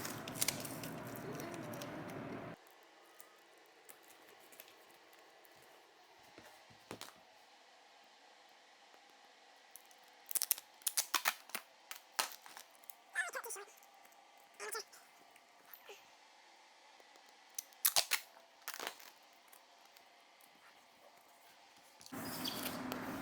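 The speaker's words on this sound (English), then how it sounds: "I'm gonna cut here and work my way up from the bottom." Plastic sheeting being cut and handled while a construction Zipwall is installed, heard as scattered sharp snips and crinkling rustles of varying loudness over a quiet background, with louder broadband noise at the start and end.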